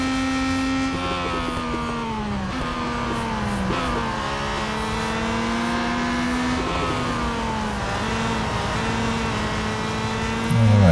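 A vintage race car engine in Real Racing 3 drones steadily close up, its pitch rising and dropping through gear changes and revving over several seconds, with other engines faintly behind.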